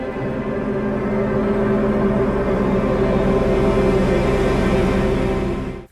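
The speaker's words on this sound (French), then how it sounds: "Et je vais mettre une nappe de drone qui ressemble à ceci." A dense, sustained ambient drone pad hums continuously, thick and steady with a low rumbling texture, fading out at the very end.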